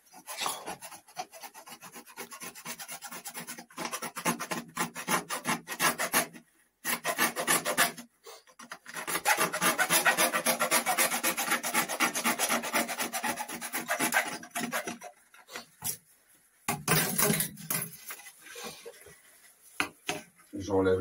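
A hand saw cuts through a PVC pipe in a plumbing job, making loud, close, rapid back-and-forth rasping strokes that continue through most of the stretch with a few short breaks.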